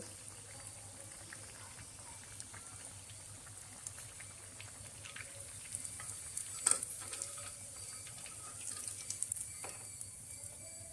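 Sabudana vadas deep-frying in hot oil, fried golden brown on both sides, give a steady low sizzle with scattered crackles and a few sharper pops near the pan, alone without talk.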